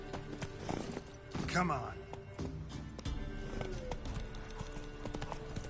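Roach the horse galloping in The Witcher 3, steady clip-clop hoofbeats running throughout under a voice talking, with a brief whinny partway through.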